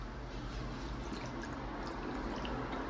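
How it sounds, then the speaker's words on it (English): Vinegar is poured into a bowl of tap water to make hand water for shaping sushi, giving a quiet, steady liquid trickle under a constant low hiss. "So I'm going to add here vinegar."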